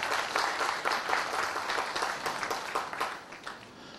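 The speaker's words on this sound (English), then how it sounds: "Can we give all of them an encouraging round of applause, please?" An audience at a lottery scam forum gives an encouraging round of applause for a panel, a dense burst of clapping that gradually thins and fades toward the end.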